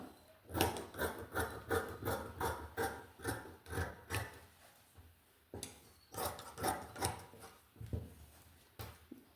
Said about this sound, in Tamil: இதை கட் பண்ணி எடுத்துடலாம்.